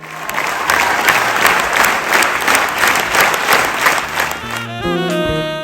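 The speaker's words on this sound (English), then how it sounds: "when they hear something they really like, they all clap in unison." A Paris audience claps in rhythmic unison, a dense, steady wave of applause from a large crowd that cuts off near the end as a different sound takes over.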